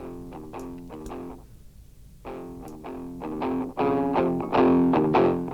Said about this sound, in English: all the way up to some really hard like fuzzy square distortion